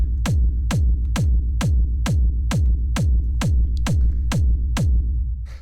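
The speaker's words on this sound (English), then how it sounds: "So this is a rumble kick." Thirteen evenly spaced techno rumble kick hits pound at a fast tempo around 133 BPM, each a deep booming thump with a rolling low tail, loud and close with nothing else playing.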